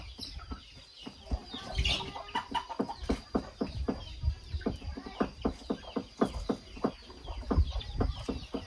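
Chickens cluck steadily up close, a busy run of short, clipped calls overlapping one another with no pauses.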